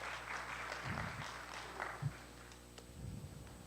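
Applause from a crowd at a senior commencement ceremony, a steady wash of clapping at moderate volume with a few louder bursts, no voices.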